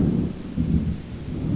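A passing thunderstorm rumbles in low, rolling waves of thunder over a steady wash of rain, loud and close, swelling and easing several times across the short stretch.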